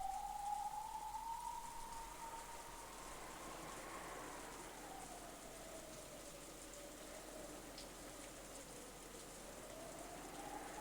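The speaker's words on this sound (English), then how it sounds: "Outside, it was still raining." Steady rain falling outside, a continuous even hiss at moderate level with no distinct drops or pauses, and a faint tonal sweep rising and wavering beneath it.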